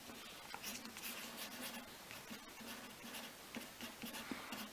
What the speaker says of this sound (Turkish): Yazıyorum.